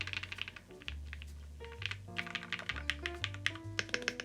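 Typing on a Brutal V2 1800 keyboard with a half plate and Cherry Blossom switches, producing steady, close, crisp clacks in an irregular typing rhythm, with no talking.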